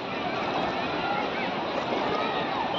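Water rushes steadily past at Khadavli river, a dense, continuous broadband wash that holds an even loudness from start to finish with no pauses.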